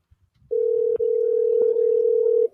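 Telephone line tone while calling someone: a single steady, sustained electronic tone heard close and clear for about two seconds after a few faint clicks, with one brief dip partway through.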